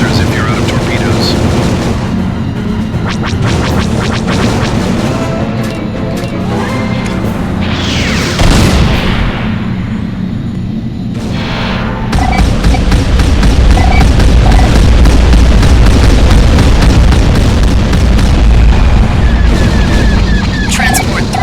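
Explosions and laser fire rumble and crash during an attack on a transport in the space combat game Open Galaxy, a dense continuous barrage with a big boom midway and sharp rapid bursts after, with a voice speaking over it.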